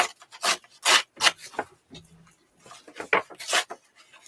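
Scrap wood being sanded to take the edge off, a series of short, irregular rasping strokes, close and fairly faint, with brief pauses between strokes.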